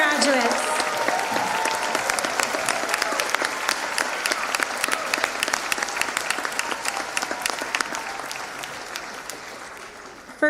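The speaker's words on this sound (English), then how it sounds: "let's give one more round of applause to congratulate all our 6th grade Lloyd Harbor graduates." Audience of families and friends applauding sixth grade graduates at a school moving-up ceremony, sustained dense clapping from a large crowd throughout, loud and close.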